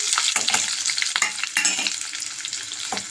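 Sliced onions and green chillies frying in oil for a dry fish tomato curry, a bright close crackling sizzle broken by quick scraping stirs of a spatula, with no voices.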